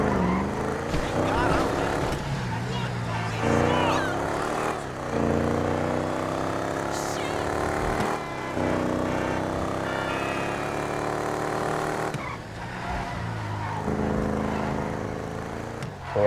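The Bravado Rat-Truck pickup in GTA Online roars steadily with a gritty engine note, its pitch climbing and dropping through gear changes as it drives for a long continuous stretch.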